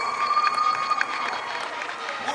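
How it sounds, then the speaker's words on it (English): A crowd at a middle school girls' basketball trophy presentation cheers and applauds for the winning team, a steady, moderately distant mix of clapping and voices that continues evenly throughout. "Round of applause for Lions of Idaho Cove Rockfall."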